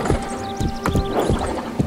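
Horse hoofbeats in the computer game Planet Horse, a quick series of rhythmic clip-clop thuds at close range with faint game sounds behind them.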